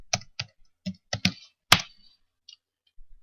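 Typing on a computer keyboard, a handful of sharp, close key clicks in an irregular burst with a few softer taps afterward, no talk.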